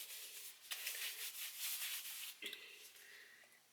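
Self tanning lotion is rubbed onto skin in circular motions, giving soft, close, rhythmic swishing strokes that stop partway, followed by a faint thump and quieter rustle.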